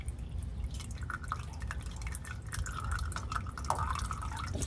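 Engine oil draining from a car into a pan, a soft steady trickle and patter of liquid with a few drips, faint against background room noise.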